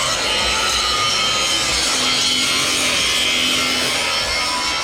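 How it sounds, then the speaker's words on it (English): Steady, loud abrasive whine of an angle grinder cutting out welds on the fifth wheel of a Kenworth W900A truck, continuous and close throughout with no talk. "Now we're just grinding the welds out."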